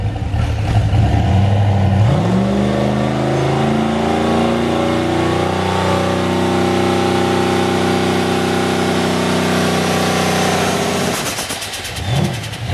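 Turbocharged 5.3 engine in a Mustang revving up and holding boost on the brake, climbing in pitch over the first couple of seconds, then droning loud and steady before easing off near the end.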